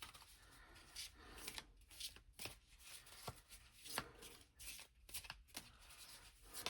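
Tarot cards riffled and shuffled by hand for a spirit reading, a soft, close papery flutter of repeated shuffles with brief slaps between, faint and steady with no voices.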